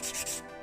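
A nail file rubs back and forth across a gel nail in short, close, scratchy strokes, a dry rasping that fades after a few passes.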